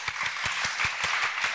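Applause at a game show: a small group claps in an even, steady rhythm of distinct close hand claps over a brief stretch, moderately loud, with no talking.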